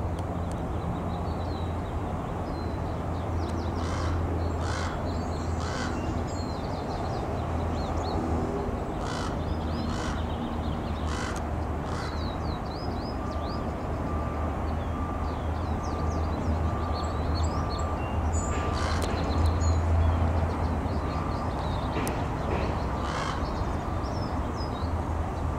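Crows caw repeatedly in a noisy ruckus, harsh calls overlapping at varying distances throughout, over a steady low outdoor rumble.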